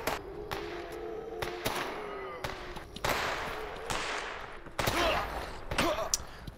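Gunfire in the video game Stalker: a string of sharp, loud shots and bursts crack at irregular intervals over a steady noisy background.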